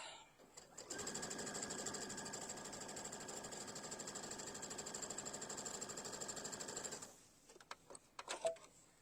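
A sewing machine stitches a seam on a vinyl mesh zipper pouch in a steady, close, continuous whir for several seconds, then stops, followed by a few faint clicks and handling sounds.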